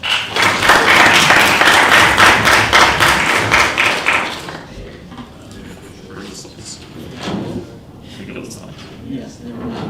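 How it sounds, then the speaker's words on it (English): An audience claps for a university racing team at a presentation, with a dense burst of applause for about four seconds that fades into murmuring and people talking. "Please give them a round of applause."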